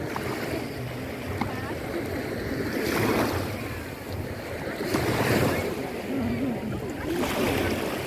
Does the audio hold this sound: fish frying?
no